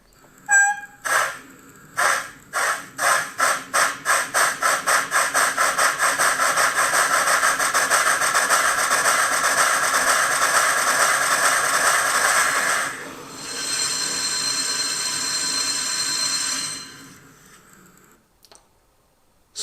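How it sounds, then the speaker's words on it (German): A KM1 BR 98.75 "Berg" gauge 1 (1:32) model steam locomotive puffs in quickening chuffs that merge into a loud, steady hiss, then the whole train's brakes squeal in a sustained screech before falling quiet. "bremse dann wieder ab und dann hört man den ganzen Zug bremsen"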